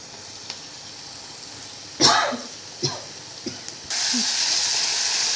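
Masala paste of onion, coconut, garlic, ginger and coriander hits a hot pan with browned onions, bursting into a loud hiss after a few soft knocks and clatters, then sizzling steadily and close by.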